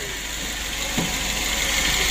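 Daihatsu Grand Max 1.3 engine, freshly rebuilt, idling steadily while warming up, a close, loud, even mechanical hum with a faint rhythmic knock and one brief thump near the middle.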